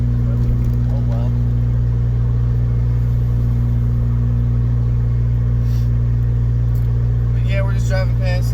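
A car is driven into town on an ordinary road. The engine drone and tyre rumble stay steady and loud throughout, with faint brief sounds near the end and no clear speech.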